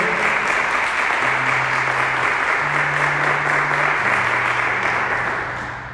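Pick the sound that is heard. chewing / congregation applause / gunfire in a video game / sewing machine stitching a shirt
congregation applause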